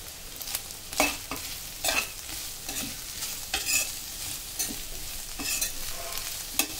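Cauliflower with crushed garlic fries in a pan with a constant close sizzle. A spoon stirs and scrapes in quick repeated strokes, about one per second.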